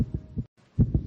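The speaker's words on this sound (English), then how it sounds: "This is the sound of a racing heart." A young child's racing heartbeat, quick thumping lub-dub beats in close succession, loud and muffled, with a brief gap before the pounding resumes.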